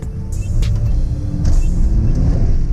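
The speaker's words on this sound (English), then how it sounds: "Oh, those pops and crackles." A Mercedes-AMG E63 S V8 burbles low and loud on light throttle, with a few sharp exhaust pops and crackles cutting over the deep engine rumble.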